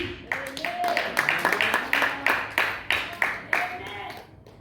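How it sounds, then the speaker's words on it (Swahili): Church congregation clapping in rapid uneven rhythm, many hands beating close and fairly loud with sharp repeated claps, alongside raised voices calling out. "Mmepiga makofi"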